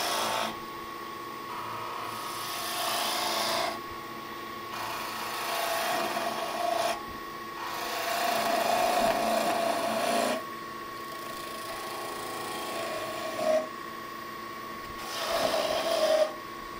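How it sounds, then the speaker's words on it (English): Spindle gouge cutting a spinning wood spindle on a lathe, a close raspy scraping that comes in repeated passes of a few seconds each over the steady hum of the machine. "With the spindle gouge you can roll tiny beads as well."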